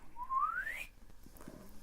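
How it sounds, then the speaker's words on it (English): A swanee whistle glides upward in one smooth rising slide lasting under a second, fairly close and clear, followed by quiet background rustle. "Please put that swanny whistle away."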